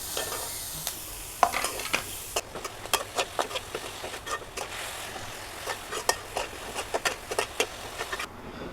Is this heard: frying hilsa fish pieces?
yes